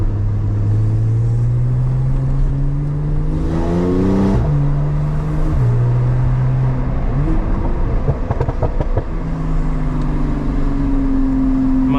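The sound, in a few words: sports car exhaust pops while driving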